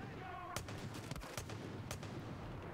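Gunfire in the Far Cry 5 video game, several sharp shots spaced irregularly over a faint noisy background, quiet overall.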